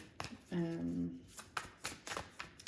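Tarot cards are shuffled by hand in a series of soft, quick riffling bursts, heard close under a voice that talks through most of the sound.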